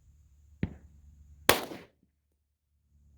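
A .357 SIG pistol fires a single sharp, loud shot into ballistic gel, preceded by a brief click or thump, with the blast ringing out briefly before fading to quiet.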